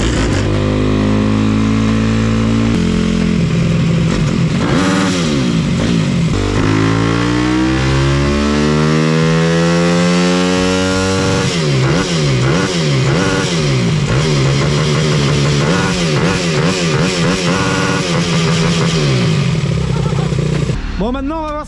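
A mini motorcycle fitted with a 212 kit and a big carburetor revs hard and close, its engine pitch sweeping up and down in repeated loud surges and held high-rpm stretches, with voices underneath.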